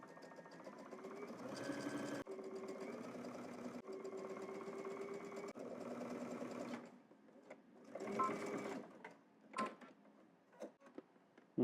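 A sewing machine runs a narrow zigzag stitch around a workout shirt neckline in several steady bursts with brief pauses, its mechanical whir fairly close, ending in short stop-start spurts.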